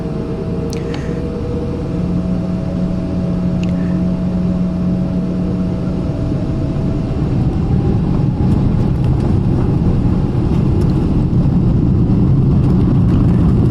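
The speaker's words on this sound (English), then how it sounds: "The engines rev up and we take off from east to west" British Airways airliner at London Heathrow bound for Houston, engines spooling up for takeoff, heard from the cabin as a loud, steady broadband roar with a low droning hum that builds continuously.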